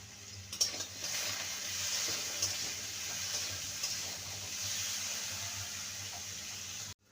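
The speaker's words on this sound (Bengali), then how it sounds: "দু মিনিট আলুকে ভেজে নিয়েছি" Potatoes seasoned with salt and a little turmeric fry in a pan, giving a steady, continuous sizzle with occasional stirring scrapes, close and even throughout, with no talking.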